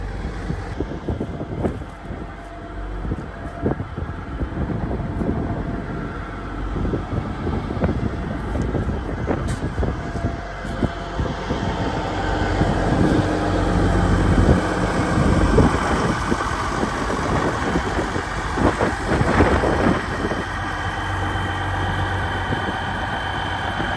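An old truck engine idles and rumbles as the clutch is let out with the park brake on, a low steady drone mixed with wind buffeting across the microphone for the whole stretch.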